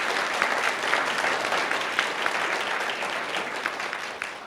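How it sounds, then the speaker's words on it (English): Audience at a homelessness summit claps for a panelist being introduced, a steady crowd applause with a few sharper individual claps standing out, no speech over it. "a round of applause for Desiree"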